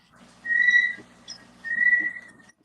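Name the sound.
pet bird whistling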